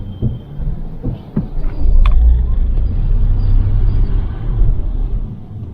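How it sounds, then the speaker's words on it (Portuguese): A Toyota Corolla Hybrid moves in electric-only mode with a low, quiet rumble and a faint high whine, a few soft knocks early on, then a steady muted drone. "Dá uma conferida no ruído só no modo elétrico."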